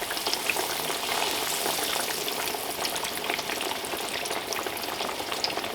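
Eggplant slices deep frying in oil, a dense steady sizzle and crackle of bubbling fat that holds close and even throughout.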